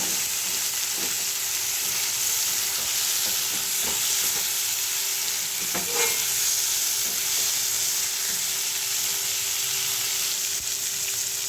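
Grated ginger frying with eggplant in a pan, stirred gently: a continuous, even sizzle with occasional soft scrapes and taps of the spatula, close and steady with no talking.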